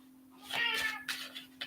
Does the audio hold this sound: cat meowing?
yes